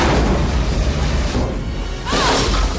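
A loud, rumbling movie explosion from Independence Day, with a deep boom and crashing debris, followed by a second burst and swooshing roar.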